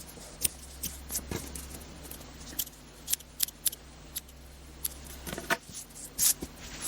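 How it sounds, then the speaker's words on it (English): Scissors snip yarn ends from a crocheted mosaic piece in a series of crisp, close, irregular cuts, about a dozen sharp clicks spread over several seconds. "Because when you trim them off, they're much easier to crochet."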